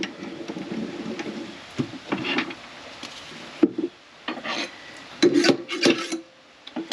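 Pear wood being hollowed out on a lathe, with a tool scraping the spinning workpiece in irregular rasping bursts separated by brief pauses, close by and fairly quiet.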